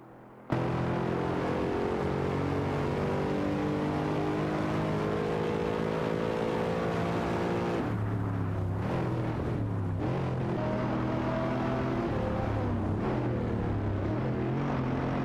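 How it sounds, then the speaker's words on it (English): Race cars in a video game, a Mercedes SLR McLaren and a Porsche 996 GT3 among them, drone steadily with layered engine tones that rise and shift through gear changes, loud and continuous with no talk. "Bobado and Shipperman in the Mercedes SLR McLaren are fiercely contesting P9 against Katsushok and Lazilux in the Porsche 996 GT3."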